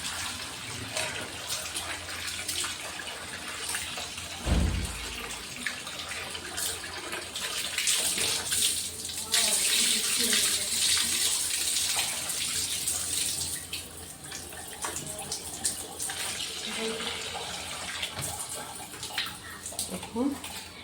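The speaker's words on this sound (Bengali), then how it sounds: "চিকেনটা তো ভালো করে ধুতে হবে, কয়েকবার এমনি জল দিয়ে উপরে উপরে ধুয়ে নেব" Raw chicken being washed under a running kitchen tap, with continuous splashing, gurgling water that swells and eases as the pieces are handled, and a brief thump partway through.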